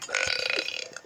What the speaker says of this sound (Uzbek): Kekirma.